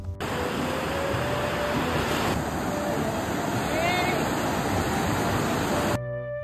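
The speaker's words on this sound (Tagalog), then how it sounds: "Pakinggan nyo muna yung hampas ng dagat." Ocean surf on a beach at La Union makes a steady, loud broadband wash that lasts almost the whole stretch and then cuts off abruptly near the end.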